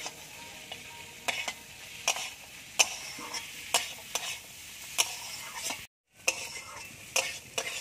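Crab pieces being stirred and fried in a pan for a spicy crab curry, with a steady sizzle and repeated sharp scraping strokes of the spatula, one brief silent gap, no talking.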